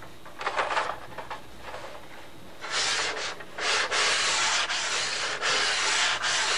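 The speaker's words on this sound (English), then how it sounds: "you can just run a little bit of sandpaper down there" Sandpaper rubs back and forth over a surface in quick, scratchy strokes, loud and close, with short pauses between the passes.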